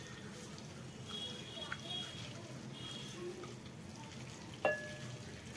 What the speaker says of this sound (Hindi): इसमें मैं 2 तेज़पत्ता, 4 से 5 काली मिर्च और 2 हरी इलायची को ऐड कर दूंगी, और बस इन्हें थोड़ा सा सॉटे कर लूंगी इस तेल में।